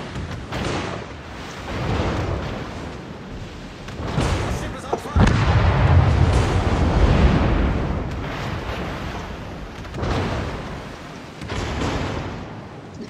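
Heavy naval gunfire booms in World of Warships during a tier 9 clan brawl, repeated deep blasts and rumbling salvos in a continuous dense barrage, with players talking over it.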